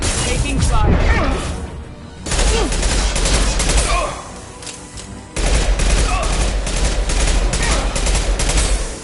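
Sustained gunfire from the video game Mass Effect 2, a dense, loud fusillade of rapid shots with crashes and thuds, briefly easing around the middle before resuming at full intensity, with game voices talking over it.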